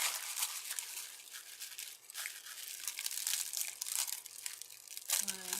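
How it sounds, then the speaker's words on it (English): Plastic wrap being peeled off a Dollar Tree mushroom solar light, with soft crinkling and tearing rustles close by, fairly quiet and continuous. "And then I'm going to peel the plastic wrap right off."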